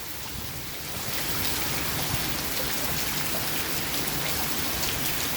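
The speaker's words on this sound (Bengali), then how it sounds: "এত বৃষ্টি" Heavy rain pouring steadily during severe flooding in Bangladesh, a dense, loud, unbroken roar of drops on surfaces that swells slightly after the first second.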